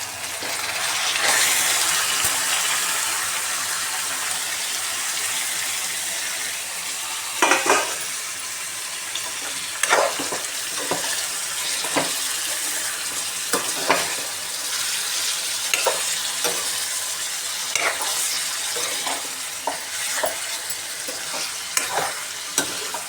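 Chicken frying in a pan with a little onion for a chicken fry, a steady loud sizzle overlaid with repeated sharp scrapes and clinks of a spoon stirring, close and continuous, no talk.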